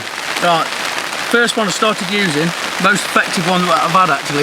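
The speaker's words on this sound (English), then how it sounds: "it's chucking it down now. Our first bit of rain right at the end of the session." Heavy rain pours down steadily on a lakeside carp-fishing session at Etang De Vost, a constant hiss filling the background beneath close men's conversation throughout.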